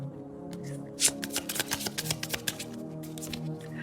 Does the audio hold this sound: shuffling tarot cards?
yes